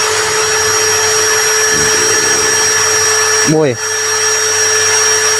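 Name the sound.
Ecosen cordless drill running at speed 2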